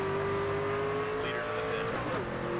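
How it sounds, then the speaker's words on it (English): A race car in NASCAR 25 roars close with a sustained engine whine, its tires spinning and scrabbling as it accelerates, the pitch climbing and wavering under the constant motor drone. "Oh my goodness, the tires are trying to spin."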